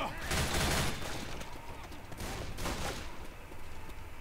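Rapid gunfire from the zombie shooter Left 4 Dead 2 crackles in dense bursts, loudest early on and then continuing at a steady level.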